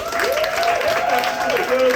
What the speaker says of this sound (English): Start the clapping and cheering at the back, guys.